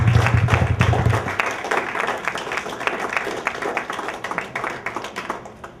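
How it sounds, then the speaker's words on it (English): An audience applauds a WWII veteran at an American Legion post celebration, a lively burst of many hands that gradually thins and fades; a low hum under the opening second. "Let's give a round of applause for us"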